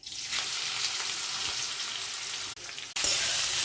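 Taro stolons (loti) fry in mustard oil tempered with black cumin and green chilli, giving a loud, steady close sizzle that dips briefly near the end, with no talk.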